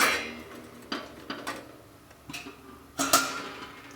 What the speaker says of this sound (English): Place the steamer. Keep the mold.